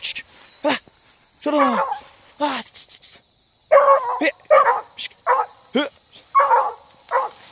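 Dog barking at an armadillo outdoors during hunting-dog training, sharp repeated barks and yips in irregular bursts, close and loud against a quiet background, with someone talking between barks.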